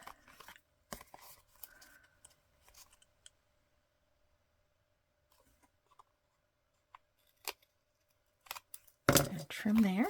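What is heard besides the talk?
scissors trimming a card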